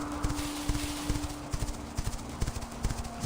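Wild horses in the game Quinfall trot with a steady clip-clop of hooves, several overlapping footfalls in a loose rhythm, moderately close against a constant background hum.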